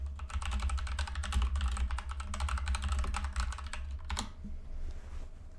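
Rapid, steady typing on a computer keyboard while building a Webflow web page, a dense run of close key clicks over a low hum, pausing briefly near the end.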